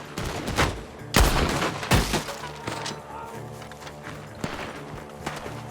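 Gunfire from a barn in the video game Red Dead Redemption 2, a series of loud, irregular shots, two heavy blasts early on and then scattered distant cracks over continuous background game noise.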